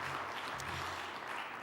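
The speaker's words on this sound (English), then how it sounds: "A round of applause for that as well." Conference audience applause, a dense, steady patter of clapping heard briefly at moderate distance without pause.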